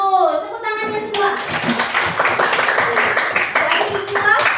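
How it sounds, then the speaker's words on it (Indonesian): A classroom of students breaks into sustained, dense applause with many hands clapping together after a teacher's short spoken line, continuing steadily with faint voices mixed in. "Tepuk tangannya semua."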